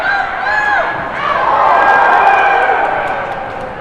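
Hockey game crowd in an arena roars and murmurs in a sustained swell as fans call for a whistle, loud and fairly near, with a voice running over it.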